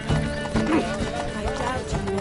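Horse hooves clip-clop at a brisk gallop in a PS4 video game, rhythmic thuds with a whinny, heard under people talking.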